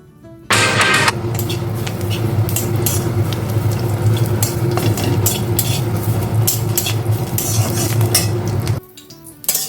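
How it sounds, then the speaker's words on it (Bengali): Curry leaves dropped into hot oil burst into loud, crackling frying that continues steadily for several seconds, with occasional clinks of a utensil, then stops abruptly. "তো এই কারি পাতাটা আগে আমি তেলে ভেজে নেব।"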